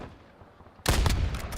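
Video game gunfire erupts abruptly after a quiet stretch, a loud burst of rapid shots continuing to the end.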